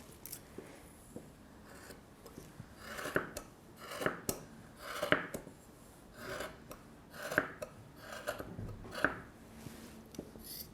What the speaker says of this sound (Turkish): Ve buradan bu şekilde iplerimi kestim.